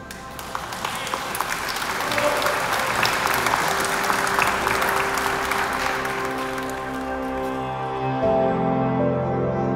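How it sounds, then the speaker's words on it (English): Sustained applause from a crowd of wedding guests celebrating a couple's golden wedding anniversary, steady and dense clapping throughout with a slight swell near the end, with music playing underneath. "to you our renewed couple, Snook and Diday, let us celebrate with joyful applause"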